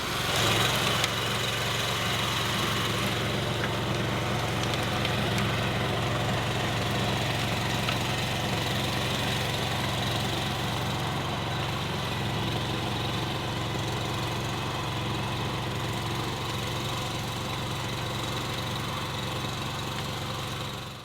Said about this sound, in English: now he's demonstrating the tiller on this previously tilled ground